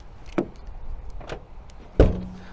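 Rear barn doors on an Elddis Autoquest CV40 motorhome are opened, giving three separate latch clunks and door knocks, the last the loudest and nearest, with a brief ringing after it.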